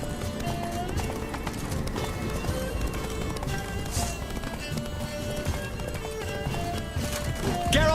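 Geralt's horse Roach gallops in The Witcher 3: Blood and Wine, a rapid, continuous clip-clop of hooves mixed with game music and a voice over it.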